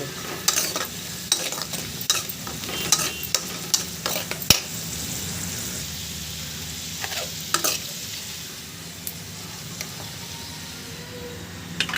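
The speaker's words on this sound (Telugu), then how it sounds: "చూడండి డ్రై ఫ్రూట్స్ బాగా వేగిపోయాయి" Dry fruits fry in ghee for a sweet, giving a moderate sizzle under repeated clicks and scrapes of a stirring spoon against the pan, louder in the first half and easing later.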